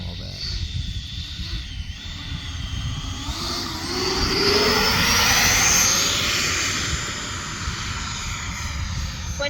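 An EDF YF-17 Cobra RC jet flies past, its ducted-fan whine rising and sweeping in pitch as it nears, loud and steady under a continuous rush of wind and outdoor noise.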